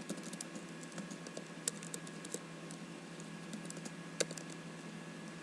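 Quiet, steady typing on a computer keyboard with many soft, rapid keystrokes and a few slightly louder taps, recorded close and with no talk.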